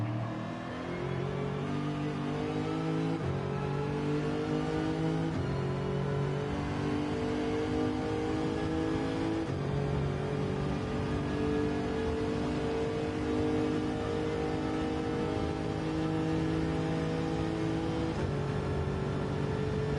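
A race car engine in Gran Turismo 7 drones loudly and steadily, its pitch climbing through repeated gear changes as it accelerates, with no talking over it.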